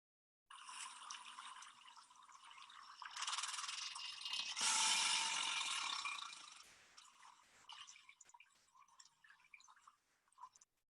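An alligator in the Everglades vibrates its body so the water on its back dances upward, making a steady splashing, rattling patter of droplets that swells to a loud burst midway, then sputters and fades.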